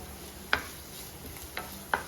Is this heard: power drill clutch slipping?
no